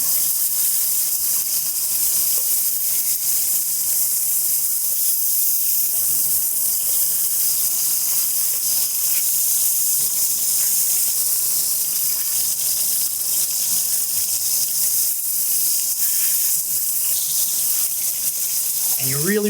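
Beef short ribs searing in a hot pan, a steady loud sizzling hiss that holds constant throughout, close up, with no talking.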